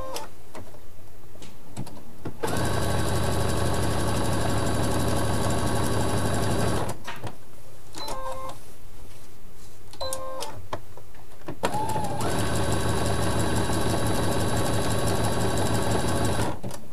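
Domestic sewing machine running satin stitch along the edge of a multicolored fabric appliqué, a loud, fast buzzing whir in two long bursts separated by a pause with small clicks and handling noises, no talk.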